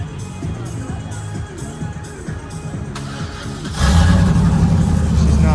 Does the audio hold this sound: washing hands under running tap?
no